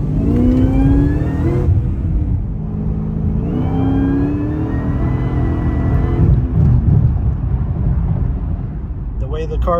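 A 750hp Cadillac engine revs and drives, its rising and falling tone swelling in repeated pulls, close and loud, while people talk over it throughout.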